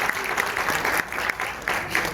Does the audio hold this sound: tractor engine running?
no